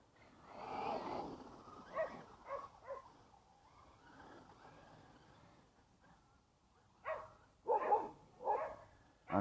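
A dog barks several times at a distance, an early burst followed by a pause, then a cluster of sharper barks near the end, near a small track where a Traxxas UDR 6s RC car runs.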